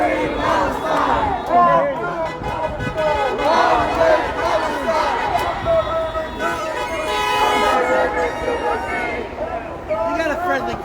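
A chanting protest crowd at a Free Palestine ceasefire rally in Denver, voices shouting in waves while car horns toot repeatedly nearby, loud and busy throughout.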